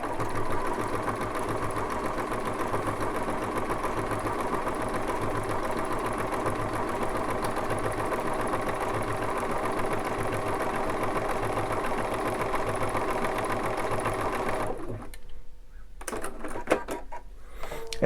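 A Bernina sewing machine runs a decorative wave stitch, a steady fast whirring and ticking that goes on for about fifteen seconds before stopping, followed by a few quieter clicks and handling noises.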